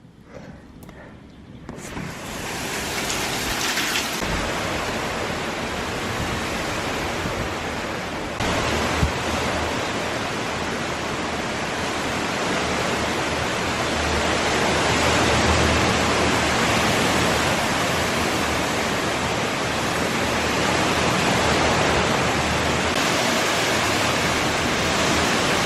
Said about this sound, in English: it's never been a storm like this